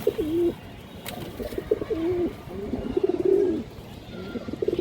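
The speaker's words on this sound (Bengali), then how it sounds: "একজোড়া বাঘা খাকি কবুতর আছে একদম পুরান লাইনের কবুতর" A pair of Khaki pigeons coo close by in repeated low, throaty rolling calls, several phrases in a row with brief gaps between them and little else underneath.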